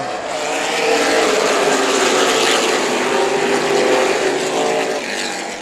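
Race cars taking the green flag for the Chili Willy 150 at Tucson Speedway, a loud, sustained roar of many engines that swells and holds as the pack accelerates.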